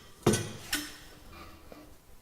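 A stainless steel drum lifter releases its beak, giving two sharp metallic clanks followed by faint rattling, close by in a quiet industrial space.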